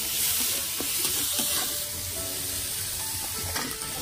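Snails sizzling in a pan with garlic paste, turmeric and chili, a steady close frying hiss with occasional scrapes of stirring, served alongside hogplum in a curry.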